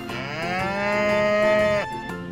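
A calf gives one long, clear moo that rises and holds before it breaks off, close and loud with no talking.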